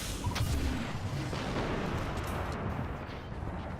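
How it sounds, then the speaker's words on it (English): A rocket launches and explodes in the Destiny video game, a heavy, booming blast that rolls into a sustained low rumble and slowly fades, with no speech over it. "I'll just use a rocket."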